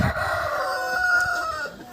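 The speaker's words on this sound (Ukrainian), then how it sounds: "Дивіться, співники бігають." A rooster crows close by in one long, drawn-out call, with other fowl faintly audible around it, in a farmyard with hens, turkeys and guinea fowl.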